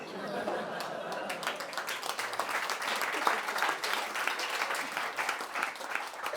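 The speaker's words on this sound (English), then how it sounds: "when the audience don't really laugh, but then clap" A comedy club audience breaks into steady clapping after a stand-up joke, a dense patter of many hands with a few scattered chuckles and murmurs underneath.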